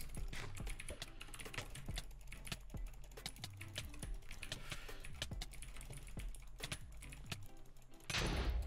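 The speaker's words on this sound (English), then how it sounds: "I'm really liking this keyboard, actually. The movement is really smooth. I feel like the keys are more responsive." Rapid, dense keystrokes on a computer keyboard during a Minecraft UHC match, crisp clicks tumbling steadily over a low game hum, close to the microphone, with a louder burst of noise right at the end.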